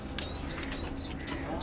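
Racing pigeons cooing in a loft, soft repeated coos with faint chirps over a steady low background hum, close by.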